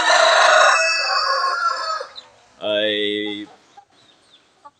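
Young Rhode Island Red hens cluck and squawk close by in a farmyard, with a loud burst of calls followed by a short crow-like call, then quieter clucks trailing off.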